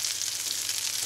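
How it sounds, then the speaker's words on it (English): Vegan lentil burger patties cook in a pan over medium heat, giving a short, even hiss of sizzling oil up close, alone and unbroken. "We're going to let these cook at medium heat."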